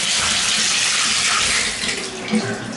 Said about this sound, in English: And you can hear the shower is really pouring out.